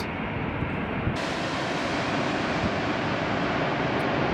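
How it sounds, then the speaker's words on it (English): A Turkish Airlines Boeing Dreamliner airliner flies over LAX, its engines a steady, broad roar that holds at a constant loud level throughout, with a brighter hiss entering after about a second. "Looks like a Turkish Dreamliner."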